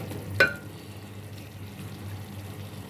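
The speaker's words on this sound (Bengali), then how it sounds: "আমার মশলাটা কষে গেছে।" Spices and masala fry down in a pan with little oil for a curry, giving a faint, steady sizzle close by, with one sharp metallic clink near the start and no talking.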